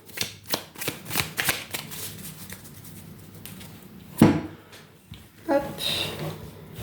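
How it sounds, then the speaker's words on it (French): Oracle cards riffled and shuffled in a run of quick papery bursts, then a few sharper card snaps and slaps near the end, close and fairly quiet with no talk. "juste les remélanger un petit peu pour être sûr de ne pas les repiocher"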